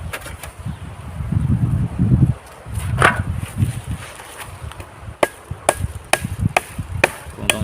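Rustling handling noise gives way to sharp chopping strikes of a knife on wood, coming in irregular bursts close to the listener, louder and quicker toward the end.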